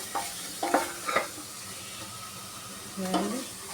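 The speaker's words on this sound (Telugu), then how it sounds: "ఈ పేస్ట్ బాగా వేగాలి మంచి పచ్చివాసన పోయే వరకు" Ginger-garlic paste fries in a pan for capsicum tomato paneer pulao, a soft steady sizzle with a few quick stirring scrapes, some clustered early and one near the end.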